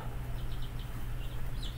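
Chickens chirp and cluck faintly in the background of a home, a few short soft calls scattered over a steady low hum.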